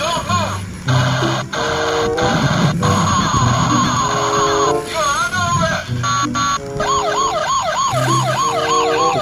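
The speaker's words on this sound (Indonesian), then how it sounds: "ternyata ada mobil polisi teman-teman" A toy police car siren wails loudly and close in rising and falling sweeps, mixed with busy electronic tones and beeps, continuing without a break.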